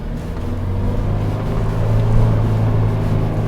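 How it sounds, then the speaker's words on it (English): Engine braking from a 2022 Ford Bronco rolling off-road in 4 low with no throttle, a steady, loud low drone with a slight swell midway, continuous throughout with no talk. "This is just engine braking, keeping us at this speed."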